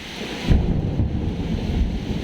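Heavy rain pours steadily with low rumbling thunder underneath, a dense continuous roar outdoors near a zoo, with no voices.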